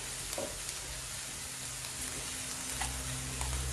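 Small peppers of mixed colours sautéing in a pan with a pinch of salt, giving a steady close sizzle with faint stirring scrapes throughout, no talking.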